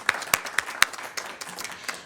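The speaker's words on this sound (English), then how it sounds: "How about a round of applause for our candidates and, for me, to our audience?" A few people in a school district forum audience clap for the candidates, giving sparse, distinct hand claps in an irregular rhythm that thin out quickly, fairly close and unaccompanied by speech.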